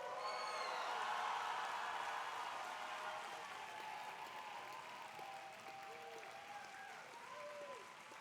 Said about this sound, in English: let's give one more round of applause and thank our mentors